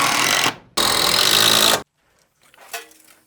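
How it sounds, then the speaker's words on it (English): A power drill driving screws into a barn shelf, two loud sustained whirring bursts followed by quieter handling noises and a short, faint tone. "Let's put some screws in it."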